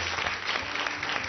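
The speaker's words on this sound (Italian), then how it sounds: "Parte l'altro applauso allora." Studio audience applause on an Italian cooking show, a dense steady wash of many hands clapping with no gaps and no talk over it.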